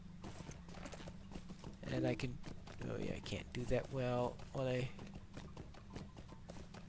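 A rented horse in a video game clip-clops at a steady walking pace, its hooves sounding softly under a voice.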